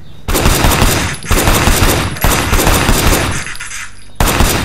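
Loud, sustained bursts of rapid gunfire in several long volleys, each cutting off briefly before the next barrage begins.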